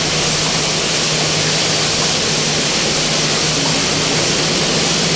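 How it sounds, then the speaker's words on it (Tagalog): Heavy rain pours outside, a loud, steady, dense hiss that runs unbroken for the whole stretch with no voices over it. "Malakas ang ulan doon sa labas."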